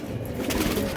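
Giribaj silver pigeons of an old small-beaked breed coo in a low, continuous murmur at close range, several birds overlapping with no talk.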